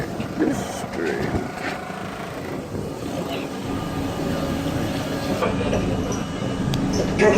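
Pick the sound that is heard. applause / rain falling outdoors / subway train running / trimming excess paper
subway train running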